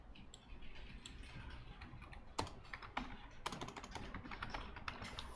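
Quiet clicking of keys on a computer keyboard while jQuery button code is typed, irregular taps and bursts of keystrokes close up, faint and without talk.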